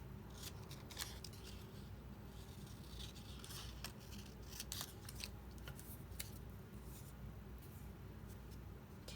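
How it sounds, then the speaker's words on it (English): Scissors snip paper to cut out a printed phrase for a junk journal: repeated quick, close cuts sound over a low, steady room hum, with no talking. "let's cut out another phrase, one of her quotes"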